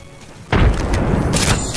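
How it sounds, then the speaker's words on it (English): A grenade going off in a first-person shooter game: one sudden loud boom after a half-second of quiet, followed by rumbling debris and a second sharp burst near the end. "I'm throwing a grenade over there."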